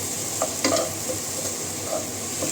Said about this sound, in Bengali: চলুন এটা একটু ভাজা ভাজা হয়ে যায়, তারপরে বাকি মশলাগুলো দেবো